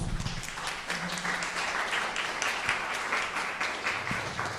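An audience at a presentation on an equality agenda in Querétaro gives steady, continuous applause, many hands clapping at moderate volume, with a few faint voices beneath.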